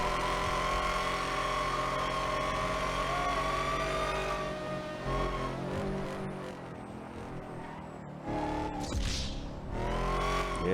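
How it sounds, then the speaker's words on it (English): A Porsche passes on a road while the recording car's own engine hums steadily throughout, the exterior note faint and swelling briefly near the end amid moderate traffic noise. "Look at that Porsche."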